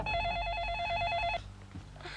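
A telephone rings with a steady electronic warble for just over a second, fairly loud and close, then cuts off to a quiet room with faint murmurs.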